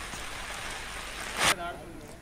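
Heavy downpour of rain, a dense steady hiss of rainfall with one brief louder splash near the end, heard up close.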